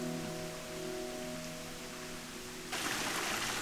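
Water rushes steadily down a stream or small waterfall beside a woodland trail, a continuous hiss that grows louder and nearer toward the end, with a faint hum under it early on.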